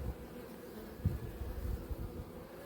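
Honey bees and drones buzz around an opened hive in an apiary during a colony split, a low steady hum close by with one brief louder knock.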